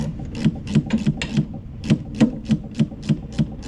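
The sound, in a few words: tightening battery clamp on Bobcat S330 skid steer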